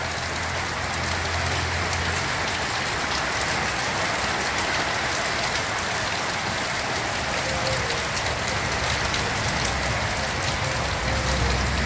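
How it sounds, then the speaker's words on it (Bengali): Heavy rain drums steadily on tin roofing weighted down with stones, a dense continuous hiss and patter with no pauses and no voices. "দেখো বৃষ্টি দেখাচ্ছে তোমাদের।"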